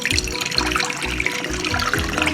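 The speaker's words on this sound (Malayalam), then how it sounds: "അതിലേക്ക് നമുക്ക് കുറച്ച് വെള്ളം ഒഴിച്ചു വെക്കാം." Water poured into two tablespoons of curd to make buttermilk, a steady close splashing pour, fairly loud and continuous for a couple of seconds with no talk.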